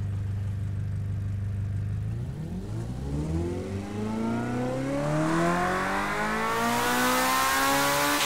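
A Group C race car engine in Gran Turismo 7 with roughly 1550 horsepower idles low, then revs hard and climbs steadily in pitch for several seconds, loud and alone.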